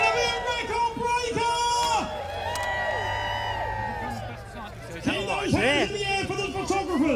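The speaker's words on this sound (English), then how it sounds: "Let's cheer!" A large crowd of people dressed as elves at a world record attempt in Worthing cheers and whoops, rising in loud bursts over a lull with excited shouting voices.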